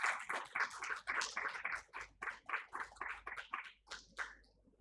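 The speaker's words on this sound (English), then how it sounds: "Can we have a huge round of applause?" An audience at a government procurement conference session claps in a short, faint burst of applause that rises quickly, pulses unevenly, and tapers off within a few seconds.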